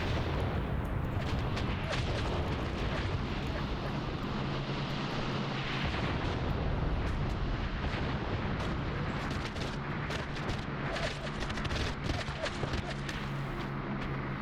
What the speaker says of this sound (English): I wonder what it is it's firing, if it's maybe off-map ZIS-3s from the guards